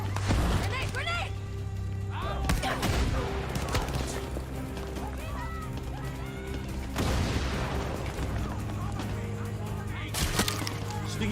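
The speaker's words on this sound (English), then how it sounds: "Grenade! Grenade!" Grenade blasts and gunfire in an online video game, several sharp explosive bursts spread across the stretch amid crackling shots, with excited players talking over the action.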